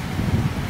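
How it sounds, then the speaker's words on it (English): Strong stormy wind buffets the microphone with a low, rumbling roar that holds steady throughout the brief moment at an outdoor night market. "Oh, super windy, stormy."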